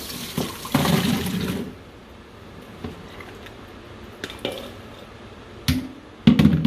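Water pours and splashes as diced russet potatoes are drained, a burst of running liquid at the start, then quieter trickles and a few clattering pours.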